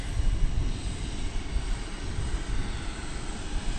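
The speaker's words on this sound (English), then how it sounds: "Well, here goes a plane going out." A plane taking off at DFW Airport gives a steady, distant engine roar that holds evenly throughout.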